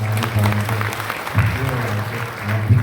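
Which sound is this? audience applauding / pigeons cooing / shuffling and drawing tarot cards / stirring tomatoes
audience applauding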